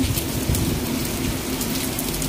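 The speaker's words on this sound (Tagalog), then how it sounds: "tumutunog yung lakas ng ulan. Pabugso-bugso yung hangin." Heavy rain pours down during a Signal 8 typhoon in Macau in a dense, steady hiss, with a low rumbling undertone of gusting wind; no voices.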